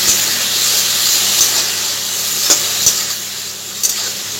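Masala being fried down with a splash of water in a pan, a steady soft sizzle and hiss throughout with a few small pops and spatters, close and even in level.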